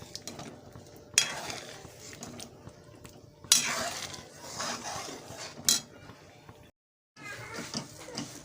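A metal water pot is pressed and scraped against cooked puran of dal and jaggery in a pot, giving irregular clunks and soft mashing thuds with one brief pause, fairly quiet and close.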